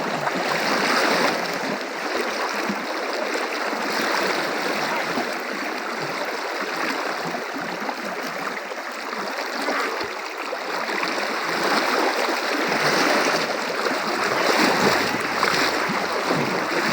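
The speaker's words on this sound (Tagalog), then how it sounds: "Mahirap dito lumakad sa tubig" Someone walks through water with continuous close sloshing and splashing that rises and falls with each step, loud and steady throughout.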